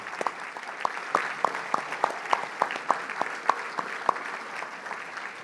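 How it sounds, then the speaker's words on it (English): Audience at a sports charity dinner applauding athlete volunteers: a steady bed of clapping from a mid-sized crowd with sharper individual claps popping out, continuing for several seconds. "Can we give a round of applause for them?"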